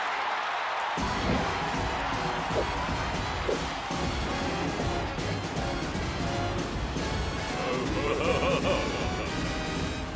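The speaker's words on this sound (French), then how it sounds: "veuillez réserver un tonnerre d'applaudissements pour les danseurs du Buddy Watkins Buckingham Palace" A large indoor crowd applauds and cheers for dancers at a show. The sound is a dense, steady roar of clapping and voices that starts after a brief quiet moment and holds loud to the end.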